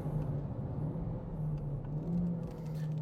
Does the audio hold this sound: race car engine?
yes